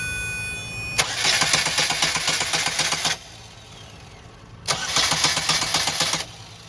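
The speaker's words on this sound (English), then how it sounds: "Alright, it does not start. This vehicle will not start unless you have power." Car engine cranking without catching on a vehicle with an electrical or starter fault, two separate bursts of rapid rhythmic starter whirring, each lasting about two seconds with a quiet gap between, heard close with no talking.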